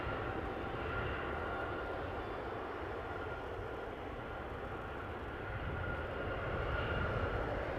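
An Air France Boeing 777-300ER airliner departing Toronto Pearson airport, a broad, steady jet engine roar heard from a distance at a fairly even, moderate level throughout.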